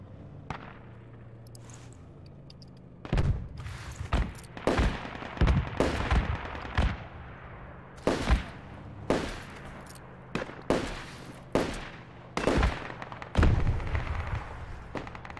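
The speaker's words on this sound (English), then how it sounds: "They're shooting at me." Gunfire in the military shooter game Project Reality, with irregular volleys of sharp shots and short bursts that begin after a quiet stretch and keep cracking in uneven clusters.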